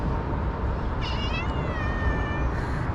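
A cat meows twice, a drawn-out cry followed by a later shorter one, over steady outdoor background noise.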